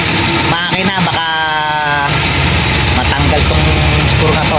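A Mitsubishi Lancer with a 4G13 engine idles steadily up close, a constant low mechanical drone running beneath someone talking.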